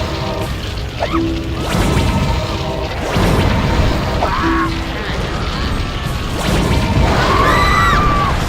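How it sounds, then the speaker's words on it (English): An explosion and rumble in the god game Black & White 2: several heavy booms and crashing impacts repeat every couple of seconds over a low rumble, with wavering voice-like tones between them. "What exploded? What's happening? What's that rumble?"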